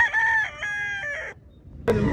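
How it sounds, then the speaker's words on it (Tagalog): A rooster at a chicken expo in Carbon Public Market, Cebu City, gives a loud, near crow with a sustained wavering tone, followed after a short pause by a sharp cluck or second call. "Manok oh."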